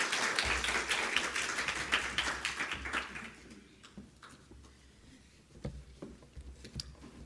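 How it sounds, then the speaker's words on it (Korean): A church congregation applauds to welcome a visiting pastor, a dense clatter of many hands that fills the room before thinning into scattered, fading claps. "우리 함께 나오실 때 박수로 환영하겠습니다."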